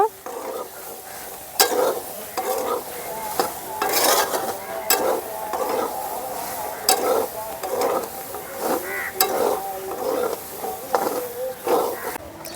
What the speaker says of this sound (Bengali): এখন মশলাকে আমি যতক্ষণ না মশলার কাঁচা গন্ধ চলে যাচ্ছে ততক্ষণ নাড়াচাড়া করে আমি মিশিয়ে নেব বা একটু ভেজে নেব